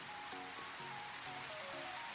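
Steady rain falling in the Minecraft video game, a soft continuous hiss of drops on surfaces with faint tonal game sounds layered underneath, no voices.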